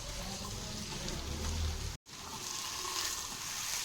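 Chicken with garlic and spices sautés in a pan, a steady close sizzle and frying hiss with a brief gap midway, no voices.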